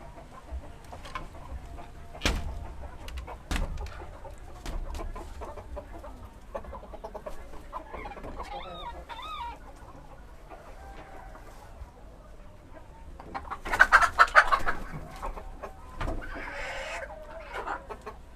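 KUB chickens, a rooster with several hens, in farm coops, clucking in short calls scattered throughout, with a louder burst of squawking flapping near the end and some faint background noise.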